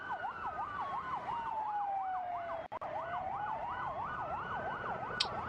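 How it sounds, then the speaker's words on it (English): Wailing sirens rise and fall in rapid cycles after a shooting at a concert hall near Moscow, joined by a slower sweeping tone, loud and continuous with a brief dropout midway. "you can hear the loudness of the sirens"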